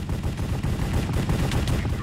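Rapid bursts of gunfire from a Minecraft Hypixel Cops and Crimes match, loud and dense throughout, the shots overlapping in fast irregular volleys with no speech.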